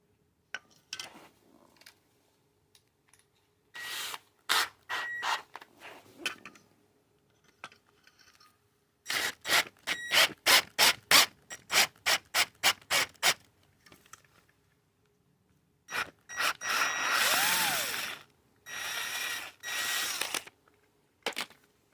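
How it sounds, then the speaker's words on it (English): A power drill with a 7.5mm bit drills out leftover threads in a glow plug hole, running in repeated bursts, short stuttering pulses and longer steady whirs separated by pauses, close by. "So we just need to drill out the rest of the threads there."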